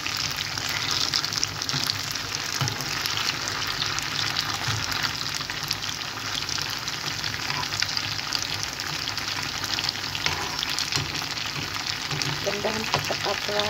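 Tau kwa tofu fries in a pan with a continuous crackling sizzle that stays close and steady, interrupted now and then by a faint stir or clink.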